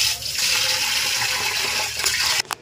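Water pours steadily over rice in a bowl to soak it, a loud continuous rushing splash that stops abruptly near the end, followed by a couple of small knocks.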